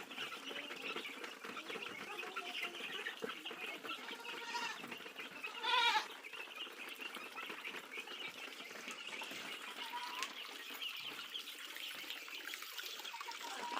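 Goats bleat now and then over a steady outdoor hiss, with one louder, sharper call standing out midway while the rest stay fairly faint and distant.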